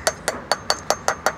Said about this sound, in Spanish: vamos a usar nuestro martillo y vamos a darle golpes uniformes, no muy contundentes ni a un lado ni a otro